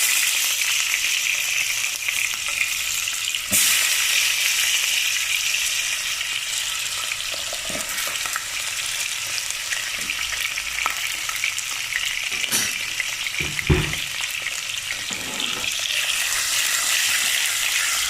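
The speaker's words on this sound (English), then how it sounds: "So now my jeera is spluttering, and I'm going to add diced potatoes." Diced potatoes with the peel on frying with spluttering cumin seeds for a methi dish, a loud, continuous hiss and crackle close up, with occasional clatters of a utensil stirring the pan.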